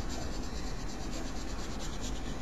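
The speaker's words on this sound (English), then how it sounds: "let's start burnishing over them with some white." A white pencil burnishes over dark-shaded mountains in a drawing, giving a steady, close, continuous dry rubbing that fills the whole stretch without pause or talk.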